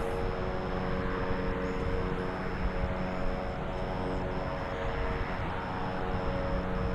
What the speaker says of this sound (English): Either hear a helicopter or a big lawnmower.